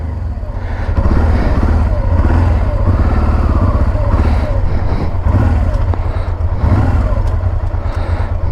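Honda Transalp motorcycle engine running low on fuel and switched to reserve, a loud, close, steady low rumble with slight rises and falls in revs and some mechanical clatter.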